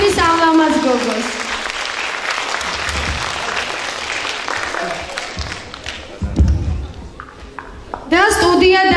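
Audience applause at a summer concert for a studio and vocal ensemble: loud, dense clapping filling the hall for several seconds, with a voice speaking at the start and again at the end.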